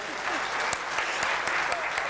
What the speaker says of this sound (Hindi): उज्जैन वाले महाकाल के लिए भी ताली बजा दो भाई।